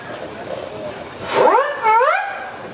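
A steam traction engine at a parade gives a short whistle blast that rises and wavers, sounding loud and close over a steady hiss of steam and crowd noise.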